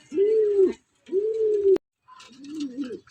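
A tame loft visitor pigeon gives three close, clear coos separated by short pauses, with a sharp click between the second and third.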